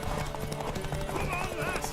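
Horse hooves clip-clop steadily while riding in The Witcher 3 game, a continuous galloping rhythm mixed with game music and a brief whinny, voices speaking over it.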